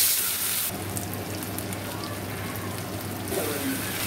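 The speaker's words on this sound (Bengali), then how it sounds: "এই দেখো বসিয়ে দিয়েছি, এবার ভাজবো মাছগুলো।" Fish frying in hot oil in a pan gives a loud, dense, continuous sizzle that jumps up sharply after a brief quieter start and then holds steady.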